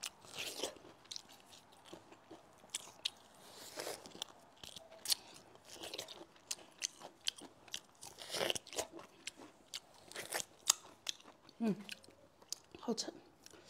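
Crisp bites and chewing of a small, juicy Yunnan Bingtang orange freshly picked from the tree, close and moist, with irregular crunchy bursts spread across the clip and faint murmuring in the background.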